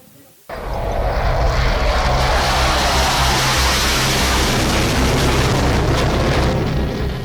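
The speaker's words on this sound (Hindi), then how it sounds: "एक्सप्रेसवे पर टच एंड गो ऑपरेशन के तहत कई सुखोई लड़ाकू विमान लैंड करते ही वापस टेक ऑफ करेंगे" Sukhoi fighter jets do touch-and-go landings and take off again from an expressway. A sudden, very loud jet engine roar starts after a quiet moment and holds steady and close to the end.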